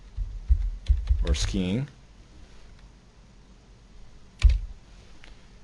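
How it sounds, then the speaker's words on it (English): Close computer keyboard typing in a quick burst of clicks, a short spoken phrase, then a second brief flurry of keystrokes after a quiet pause. "we're going to type in skier"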